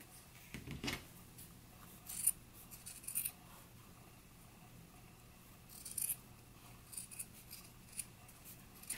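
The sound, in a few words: scissors trimming a sewing seam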